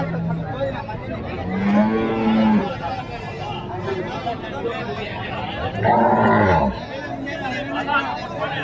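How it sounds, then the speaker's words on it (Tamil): Cattle at a rural livestock market in Kuntharapalli, Krishnagiri district, Tamil Nadu, give two loud, near, drawn-out moos over a constant murmur of crowd chatter and voices. "எல்லா மாடங்களும் இந்த சந்தைக்கு வரும்"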